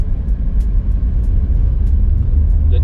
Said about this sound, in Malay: Alah, lori ni pun nak berhenti kat sini.